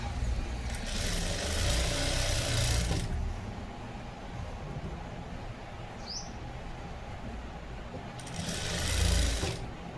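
Sewing machine stitching a soft silk Bandhani blouse, a steady whirring run with louder bursts at the start and near the end, no talk.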